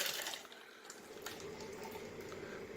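Liquid pours steadily into a container during a head-to-head test of a Mr. Coffee Cafe Barista against a Keurig K-Cafe, a continuous close splashing wash with no talk.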